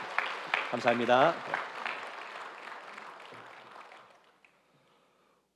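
Church congregation applauding a newly registered member during a Sunday service: a burst of clapping that swells and then tapers away over several seconds, with a speaker's voice over the start.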